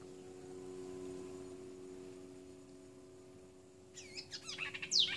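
A nightingale sings in a quick burst of bright, warbling chirps near the end, rising over a steady low hum and faint background noise.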